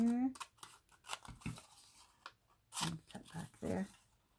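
Scissors snip during a craft project to make a piece look old, a few close, crisp cuts spaced out among quiet rustling and handling.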